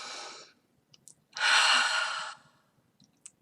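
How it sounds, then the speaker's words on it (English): A person breathes audibly near the microphone: a short exhale, a pause, then a longer, stronger breath out, with faint clicks in the quiet gaps. "There, I just breathed"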